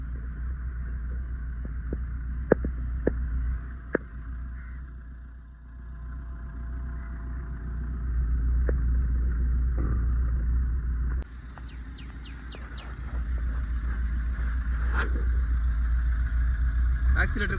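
A Maruti Swift with a white smoke complaint cranks and starts midway, then settles into a steady idle, with people talking and a few clicks earlier on.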